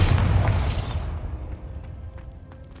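The Bombarda spell explodes in Hogwarts Legacy: a loud, close boom that rumbles and fades over about a second, followed by quieter scattered clicks.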